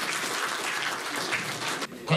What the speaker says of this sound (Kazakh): Сол үшін құрмет, бір қол шапалақ деп қояйын.